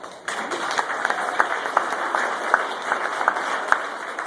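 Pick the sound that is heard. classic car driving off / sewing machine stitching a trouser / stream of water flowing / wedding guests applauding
wedding guests applauding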